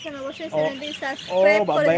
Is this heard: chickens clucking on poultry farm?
yes